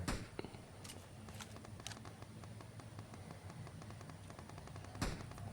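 Machine-gun fire in PUBG Mobile arena mode: a few sharp, isolated shots near the start and one more toward the end, over a low, steady background hum.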